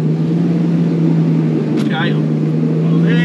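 A 4x4 idles steadily close by while climbing a rock step, with a brief blip of throttle; a person talks briefly over the engine.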